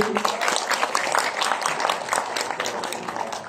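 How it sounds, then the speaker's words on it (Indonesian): Dense, steady applause from an audience at a parliamentary app launch event, filling the whole stretch at moderate volume with faint voices mixed in. "Boleh tepuk tangan Ibu Desi."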